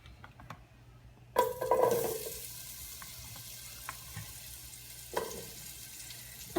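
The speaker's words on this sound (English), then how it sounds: "So I'm going to throw the zucchini in." Zucchini tossed into a hot pan of olive oil gives a sudden loud sizzle that hisses and gradually settles, followed by quieter crackling and a second brief burst of sizzle.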